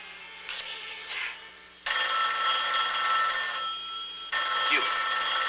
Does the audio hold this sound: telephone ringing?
yes